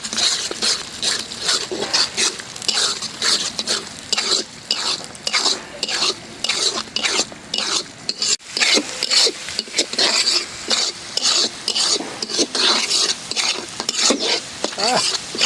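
Noodles for an iftar meal stirred hard in a frying pan, with rhythmic scraping strokes over a steady close sizzle that runs the whole time, loud and busy, with no talking.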